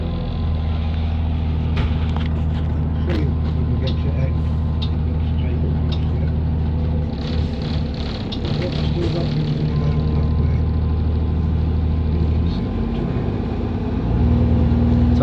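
A Transdev A3 Airport Flyer bus engine idles with a low steady rumble, then revs and pulls away with brief hisses of air, close and continuous throughout.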